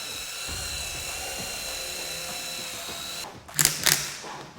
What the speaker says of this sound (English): the drill brush is perfect for agitation, helps really release all of the dirt and grime.